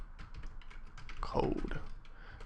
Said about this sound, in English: Type code.